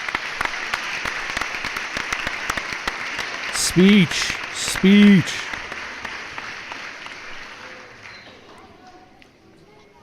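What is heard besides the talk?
crowd applause sound effect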